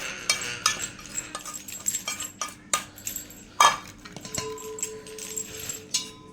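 A spoon mixes ragi flour with roasted coconut powder and jaggery in a bowl, producing a string of light clinks and taps of metal on the dish, with a brief louder clatter midway.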